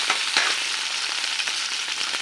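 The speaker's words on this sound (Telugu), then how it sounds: "ఓన్లీ పచ్చిమిర్చిని ఫ్రై చేస్తాను" Green chillies frying in a pan give off a steady, close sizzle with light stirring clicks and no voices.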